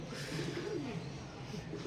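Soft, throaty cooing of pigeons, a few low rolling coos over a steady background murmur.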